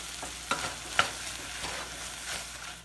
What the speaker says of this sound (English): Stir them up a little bit and let them start to cook and soften as well.